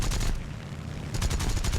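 Aircraft cannons on the A6M2-N floatplane fire in a rapid, dense burst in the War Thunder video game, loud and close, with rattling shots pounding continuously and no talking.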